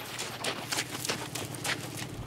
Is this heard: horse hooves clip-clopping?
yes